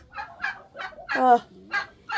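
A laying hen turkey gobbles and clucks in a run of short, close calls, one longer warbling call in the middle, outdoors in wet weather.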